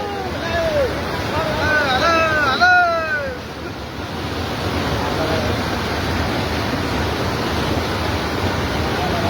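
Floodwater from a river swollen after a cloudburst rushes over a bridge in farm country, a steady, loud broadband roar throughout, with excited voices calling out over it in the first few seconds.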